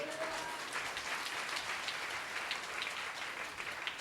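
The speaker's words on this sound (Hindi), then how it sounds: "ताली बजा के प्रभु की स्तुति करेंगे" A church congregation clapping in praise during a Sunday service, a soft, dense and even patter of many hands that carries on without pause, with a faint voice near the start.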